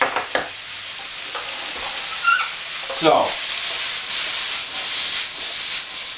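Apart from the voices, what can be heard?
tossing blanched noodles sizzling in a hot pan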